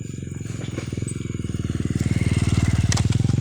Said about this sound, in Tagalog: So nakikita nyo po yung motor.